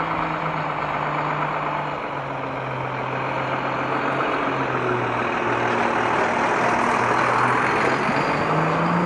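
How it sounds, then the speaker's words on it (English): A big garbage truck drives past close by. Its engine gives a loud, steady rumble that swells a little as it goes by, with no talk over it. "Big old garbage truck."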